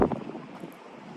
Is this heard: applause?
no